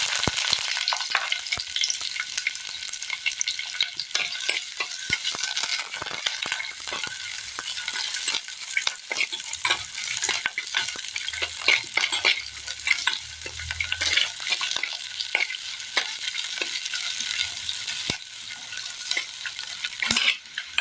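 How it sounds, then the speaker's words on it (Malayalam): Sliced onion frying in hot oil in a pan, a continuous close sizzle broken by repeated scrapes and stirs against the metal, steady throughout with no talk. "ചട്ടിയിലെ എണ്ണ ഒന്ന് ചൂടായി വരുമ്പോൾ ഇതിലേക്ക് നമുക്ക് സബോള ഇട്ട് കൊടുക്കാം."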